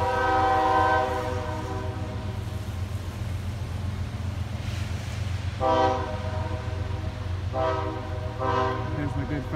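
A CSX freight train rolls slowly past at Ijamsville with a steady low rumble of cars and wheels, while a loud horn sounds in long sustained blasts near the start and then again in repeated blasts later on.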